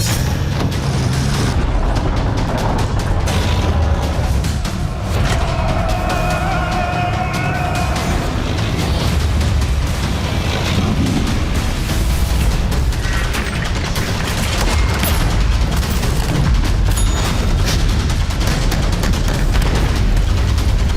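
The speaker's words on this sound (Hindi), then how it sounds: "हमारी तोपों, टैंकों की जो गर्जना आप देख रहे हैं" Continuous loud booming and rumbling blasts of heavy tank and artillery gunfire, including T-90 Bhishma tanks, roll on without pause, dense and overlapping.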